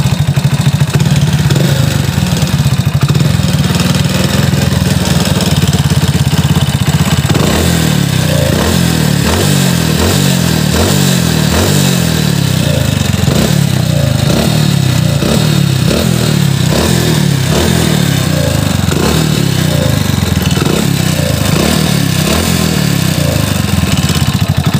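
A Hero Splendor motorcycle engine runs steadily up close, a loud continuous rhythmic putter with a clattery mechanical edge throughout, no voices.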